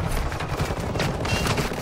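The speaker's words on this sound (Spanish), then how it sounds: "¡Me disparan!" Sustained automatic gunfire from a Call of Duty firefight, loud and continuous with overlapping bursts and a distant boom, filling the whole stretch without any voices.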